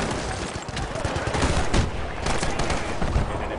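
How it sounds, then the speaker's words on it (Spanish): Rapid gunfire bursts from a machine gun in the video game Battlefield Bad Company 2, loud and dense with layered explosive cracks and a rumbling battlefield backdrop, continuous throughout. "¡Ametralladora allí!"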